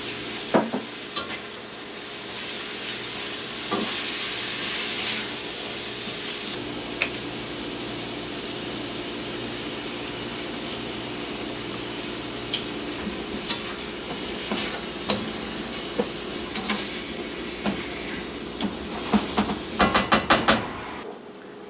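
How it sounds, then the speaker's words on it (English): Vegetables stir-frying in hot oil, a continuous crackling sizzle with scraping and tossing, ending in a cluster of sharp clinks of utensil against pan, without any voices. "Toss your vegetables lightly in the oil before you add your sauce."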